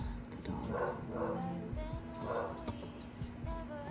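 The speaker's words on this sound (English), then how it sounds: "Oh, the dog." A household dog barks a few times at mid distance, a short cluster of yaps and woofs against steady room hum with a faint background tone.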